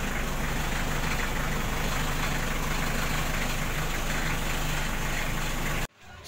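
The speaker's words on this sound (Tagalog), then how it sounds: "Tapos papatayin na natin yung makina." A portable air compressor's engine idles loud and steady with a dense rumbling drone, then cuts out abruptly near the end, leaving near silence.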